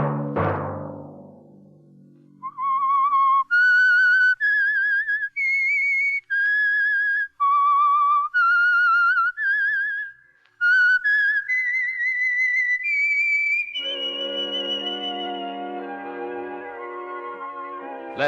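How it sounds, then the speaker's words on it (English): The whistled theme signal of the radio show The Whistler plays: a lone, clear whistled melody of sustained notes rising and falling, loud and close, ending with a swell of orchestral music. "Let that whistle be your signal for the Signal Oil program, The Whistler"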